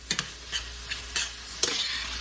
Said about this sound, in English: you just Want to keep chopping it up and cooking it until it's browned and cooked all the way